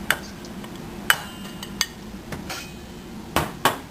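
Metal spoon clinking against a bowl while yogurt and dry spices (salt, red chili powder, coriander, cumin, turmeric) are mixed for paneer biryani; a handful of sharp, separate clinks over a quiet background, no talk.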